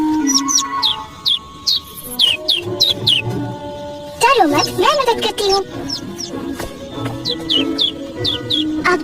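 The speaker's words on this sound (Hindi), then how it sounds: "एक नन्हा सा पंछी।" A small cartoon bird chirps in quick, bright repeated tweets, loud and close, while voices speak over part of it.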